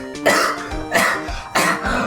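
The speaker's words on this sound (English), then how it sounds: "Hopefully I never cough again" A person clears their throat and coughs three times in quick succession, each burst harsh and close, with short pauses between them and no talking.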